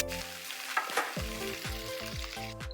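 A yogurt masala fries in a pan for Gobhi 65 and is stirred, giving a continuous sizzle with a few louder bursts. Rhythmic low scraping strokes from a spoon dragged across the pan run underneath.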